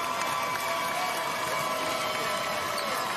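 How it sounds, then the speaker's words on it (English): Crowd applause and cheering fill the gym at a girls' 3A high school basketball championship, St. James vs Mobile Christian, as a player leaves the court; a dense, steady roar holds throughout the clip. "Chloe Mitchell, a nice round of applause as she comes out."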